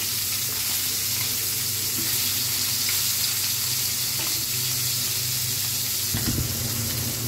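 Hilsa fish pieces fry crisp in hot oil in a pan, a steady, close hiss of sizzling that holds evenly throughout with only slight bursts of crackle.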